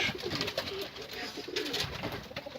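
Pigeons coo softly in repeated low, throaty calls over a constant background hiss.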